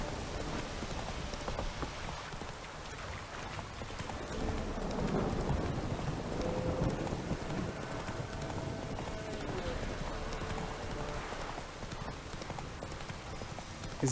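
Storm rain falls steadily in The Witcher 3 as a dense, constant hiss under the game's ambience, with faint low rumbles and clopping hooves mixed in, and a person talks throughout.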